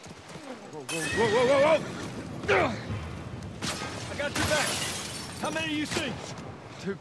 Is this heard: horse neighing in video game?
yes